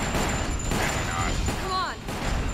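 Gunshots in the video game Resident Evil Code Veronica, a few loud cracks and booms mixed with game effects, heard under a player talking.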